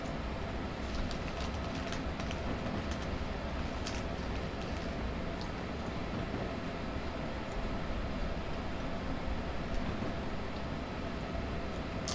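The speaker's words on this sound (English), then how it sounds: "the train sounds more realistic now" An Amtrak Silver Meteor train in Train Simulator 2019 gives a steady, even rumbling run sound that holds without a break, with faint clicks now and then.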